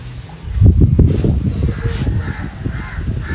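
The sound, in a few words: bird calling near the house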